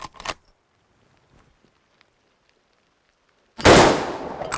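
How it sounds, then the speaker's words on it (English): A 30-30 lever-action rifle fired outdoors, one loud sharp report near the end that rings out and decays, following a quiet stretch with a faint earlier crack and small handling clicks. "we're going to shoot our lever gun"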